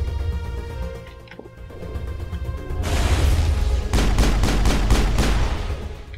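Pistol fire in the Mass Effect video game during a mission on Ilos: a quick run of sharp shots bursts out midway, repeated in a steady rhythm over low rumbling game ambience, with no talking.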